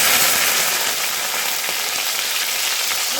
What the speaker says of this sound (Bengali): এখন আমি তেলের মধ্যে সিমগুলো দিয়ে দেবো